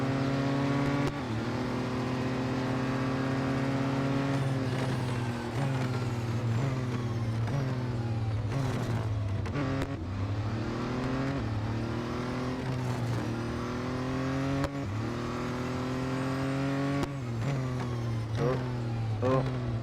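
Car engine in the Real Racing 3 mobile racing game: repeated revving with rising pitch sweeps and gear shifts, continuous and steady, with occasional brief spoken comments over it.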